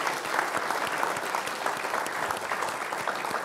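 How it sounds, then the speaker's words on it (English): Audience applause at the close of an evening talk on Irish emigrant experiences in America, a dense, steady patter of many hands clapping continuously at moderate distance, with no voices over it. "and one more round of applause for Damian and David."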